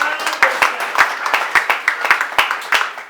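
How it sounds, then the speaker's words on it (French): A church congregation claps in a short burst of applause, about a dozen distinct, fairly loud hand claps at an uneven rhythm over three seconds. "Let's put our hands together for God."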